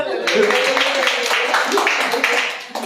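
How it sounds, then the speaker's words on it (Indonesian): Audience clapping at an evangelical Pentecost evening service, a dense, steady round of applause from a crowd that holds at the same level for about three seconds. "Tepuk tangan dulu"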